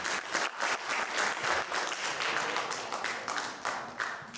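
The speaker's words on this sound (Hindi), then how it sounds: "प्लीज़ पहले तो तालियां बजा दीजिए।" An audience at an international Hindi conference breaks into applause, many hands clapping in a lively, slightly uneven patter with distinct individual claps audible, moderately loud and without speech.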